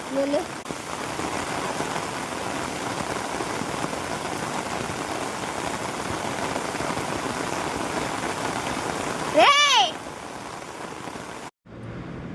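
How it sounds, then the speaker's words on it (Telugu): Steady rain falling and pattering on surfaces, a dense even hiss throughout with a brief passing tonal sound partway through and a short drop-out near the end. "వర్షం పడుతుంది కదండి"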